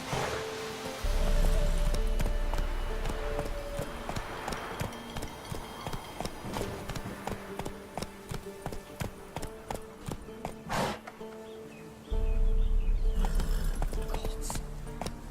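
Roach, the horse from The Witcher 3, gallops with rapid rhythmic hoofbeats that run steadily throughout, close and clear, over rumbling low wind and ambient game sound, with a brief pause before the pace resumes.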